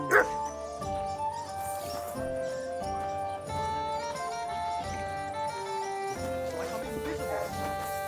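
A dog in the video game Kingdom Come: Deliverance 2 barks and whimpers over continuous game music, the yips short and close.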